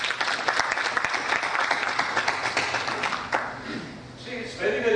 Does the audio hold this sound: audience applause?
yes